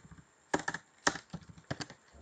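Quiet keystrokes on a computer keyboard while PHP code is entered, irregular bursts of clicks in short clusters with pauses, close by and without talk.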